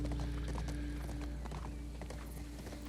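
Rhythmic hoofbeats of a horse galloping across hay fields in The Last of Us Part II, steady clip-clop cadence held under a low continuous ambient hum, moderately close and fairly quiet.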